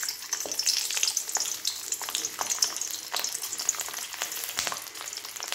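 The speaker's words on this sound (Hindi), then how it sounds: "लहसुन को ब्राउन होने देंगे।" Garlic frying in a pan for kachnar saag, a dense, steady close sizzle with crackling pops and some stirring scrapes, with no voices.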